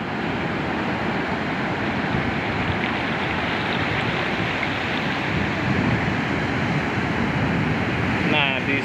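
Rough ocean surf at Dlodo Rejosari beach, with its black and white sand, where white-foaming waves roll in over a strong backwash: a constant, heavy wash of breaking water and wind with no letup.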